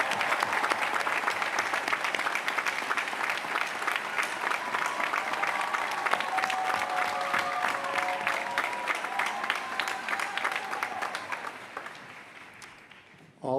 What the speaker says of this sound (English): Can everybody please give them a round of applause for our first-time students?